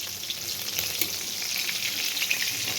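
Chicken legs fry in a pan with a continuous soft sizzle and crackle, and small pops rise over a steady hiss throughout.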